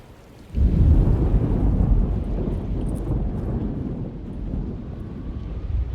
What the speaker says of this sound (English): Just keeping an eye out for the storm.